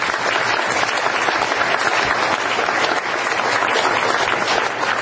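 A township board meeting audience gives a loud, steady round of applause for volunteer nominees, dense clapping continuing unbroken throughout.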